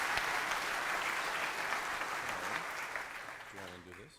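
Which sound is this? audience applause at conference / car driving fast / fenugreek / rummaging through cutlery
audience applause at conference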